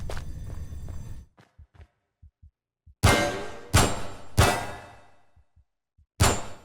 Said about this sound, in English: The way I achieved this ringing effect, like in Half-Life 1, is by having a delay effect with very low time, 10 milliseconds to be exact